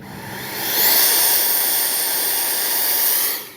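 An FMS 80mm F-86 radio-controlled model jet runs with a loud, steady roar and a high whine. The sound swells in the first second, holds level, and then drops off at the end.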